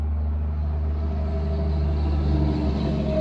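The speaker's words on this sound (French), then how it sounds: "J'entends un camion." A truck rumbles past outside an open window on a trafficked street, a loud, deep engine drone that swells slightly over a few seconds.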